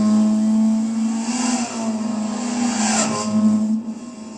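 Race cars in a racing video game league, heading around the Spoon curve on the final lap. A loud, steady engine drone holds nearly level, with brief surges and dips as the throttle changes, and no speech.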